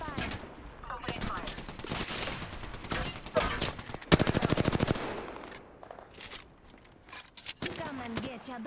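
Rapid automatic gunfire in the Apex Legends video game, with repeated crackling bursts and a dense volley midway, mixed with metallic clinks and voices talking over the action.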